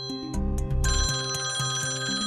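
A telephone rings with a repeating electronic melodic ringtone, loud and near, its pulsing tones continuing steadily with no speech over it.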